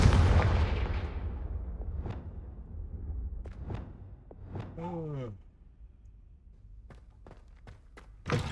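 In the Hogwarts Legacy video game, a Confringo spell fires an explosion: a heavy booming blast that fades into a long rumble, followed by scattered sharp impacts and thuds, with a voice briefly heard.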